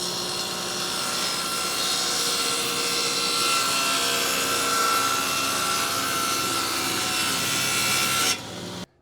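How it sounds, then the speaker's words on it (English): A table saw with its blade tilted to a 45-degree bevel cuts through wood in one loud, sustained rasping whine, close up, ending abruptly as the cut finishes. "this cut is going to be with the saw blade set at a 45-degree angle"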